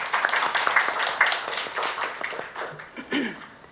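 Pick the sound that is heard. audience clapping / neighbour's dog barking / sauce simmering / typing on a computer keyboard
audience clapping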